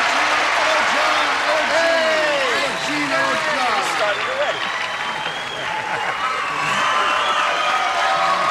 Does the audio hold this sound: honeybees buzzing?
no